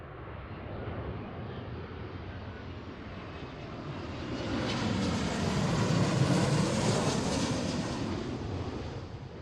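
An airliner arriving from Santa Ana lands at Seattle's airport, a broad, steady jet roar that swells louder midway through and stays strong, with no voices.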